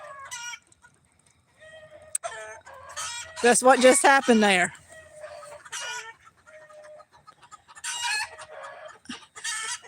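Chickens clucking and a rooster crowing on a farm at evening, a loud burst of squawking in the middle as the rooster chases a hen, with someone talking briefly amid the birds.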